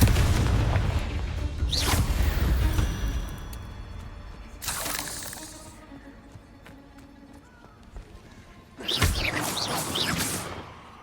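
Confringo explosive spell blasts in Hogwarts Legacy, three loud booming bursts spaced a few seconds apart, with lower game sounds rumbling between them.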